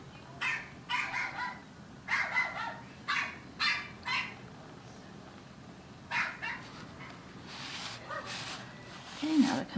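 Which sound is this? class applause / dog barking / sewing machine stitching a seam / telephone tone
dog barking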